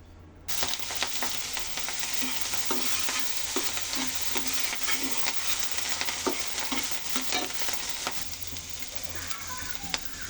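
Eggplant fries in a pan, giving a dense, even sizzle that holds for about ten seconds, dotted with soft scraping ticks from stirring. No one speaks.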